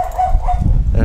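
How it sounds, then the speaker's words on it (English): A husky gives a couple of short, whiny yelping barks close by, mixed with other noisy sounds in a brief burst. "It's a husky."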